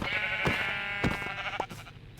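Several video-game sheep bleats sound one after another, wavering and nasal, clear and close with a faint backdrop.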